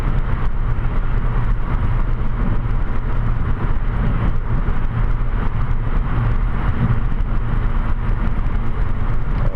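Steady, loud interior drone of a car cruising at highway speed in traffic, with low road rumble and engine hum that holds constant throughout, no voices.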